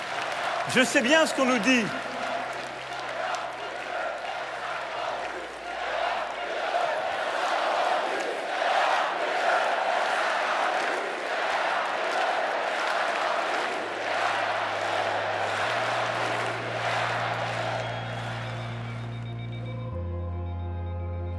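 A large crowd cheers and applauds at a Macron campaign rally, producing a dense, sustained roar that fades toward the end, with a voice speaking over the start.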